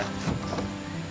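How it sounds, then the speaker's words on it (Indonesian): A Canon Pixma G3010 inkjet printer runs close by, giving a short burst of mechanical whirring and feed clatter, loud and alone without any talking. "printer ini sudah berfungsi dengan baik"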